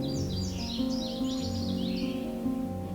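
Songbirds sing along the Otter Lake Side Trail on the Bruce Peninsula, with repeated high, rapid chirping phrases over a steady low outdoor hum, moderately near and clear.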